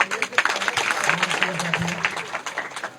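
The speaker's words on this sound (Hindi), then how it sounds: "इसीलिए जोरदार ताली लगा दो आपने कहा।" Crowd clapping and cheering at a political rally, a dense, steady wash of applause lasting throughout with voices mixed in, fairly loud and close.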